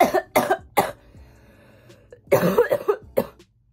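Someone coughs repeatedly up close: a few sharp coughs, a short pause, then a harsher, rougher burst of several more.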